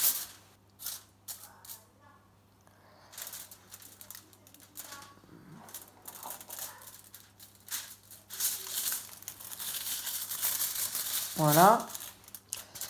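Material for a pottery barn model cut with a series of crisp snips and crinkling rustles, sparse at first then building into a denser crackling stretch, with one brief spoken word and a quiet background hum.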